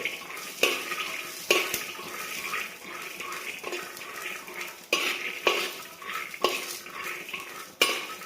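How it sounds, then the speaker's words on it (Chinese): Peanuts stir-fried in a wok over low heat until crispy: a steady rattling hiss of nuts shifting, broken by repeated scraping strokes of a spatula against the metal at a regular pace, close and alone. "倒入咱们的这个花生米， 不断的去翻炒它，炒到这个花生米酥脆"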